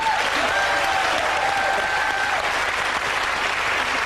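A studio audience at a music panel show claps in a sustained, even burst of applause lasting several seconds.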